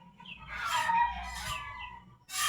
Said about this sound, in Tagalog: At may maririnig tayo diyan mga tilaukan ng manok.